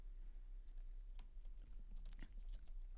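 Code typed on a computer keyboard, quick irregular key clicks at close range, fairly quiet, over a low steady hum.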